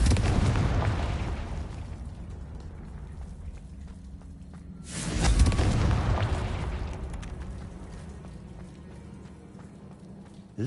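In the Hogwarts Legacy video game, a Confringo spell lets off a fiery explosion with a deep roaring boom that swells at about the midpoint, then fades. A rumbling background hangs on throughout.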